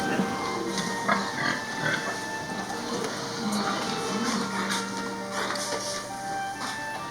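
A pig on a farm inside a shed, with soft grunts and snorts amid steady rustling and shuffling background noise, a faint mechanical hum running throughout.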